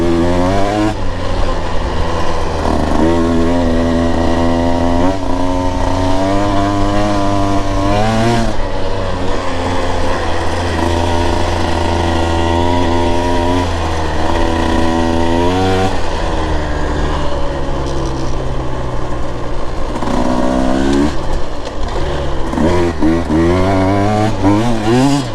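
A Husqvarna TE 150 TBI dirt bike engine pulls hard without downshifting, a loud continuous two-stroke wail rising and falling in pitch over about 25 seconds, heard up close from the rider's position.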